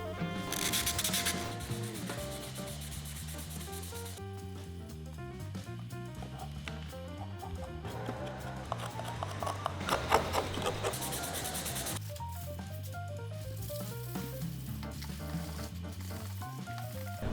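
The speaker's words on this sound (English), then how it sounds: "I think I'm done sanding. I can sand no more." Steady scraping and rubbing of sanding on hard plaster, continuous and close, with music playing throughout.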